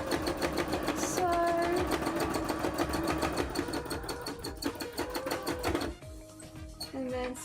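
An embroidery sewing machine stitches in a fast, steady mechanical chatter, with rapid repetitive needle clicks that shift briefly near the end, close and moderately quiet.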